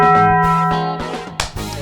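A bright bell-like ding, used as a subscribe-button sound effect, rings out and decays over a second or so, followed by a few sharp clicks and knocks.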